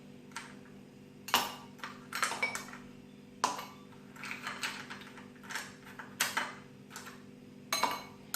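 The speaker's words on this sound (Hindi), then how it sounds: "और इस तरह से आइस क्यूब्स आप डालिए" Ice cubes dropped one after another into drinking glasses while preparing cherry juice, giving a series of sharp clinks and clatters at irregular intervals over a steady background hum, close and fairly quiet.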